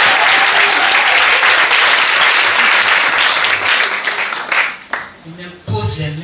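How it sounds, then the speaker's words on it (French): Loud enthusiastic applause and cheering from a congregation at a couples' church retreat, dense and continuous before thinning out, with a voice breaking through near the end. "Acclamation"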